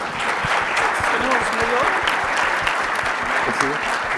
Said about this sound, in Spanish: Un fuerte aplauso para todos, por favor.